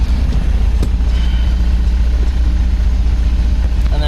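An MGB engine running rough after a carburettor rebuild gives a steady, close, low rumble that carries through the whole stretch without a break.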